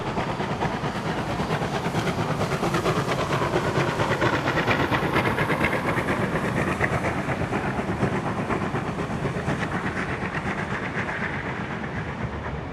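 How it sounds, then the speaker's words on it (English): Steam locomotive 3526 hauls a passenger train through Carlton in New South Wales, a steady, dense rumble of engine and wheels with rapid rhythmic clatter throughout, close and loud. "The first train of the day is hauled by 3526, the Naughty Nanny, who is passing through Carlton"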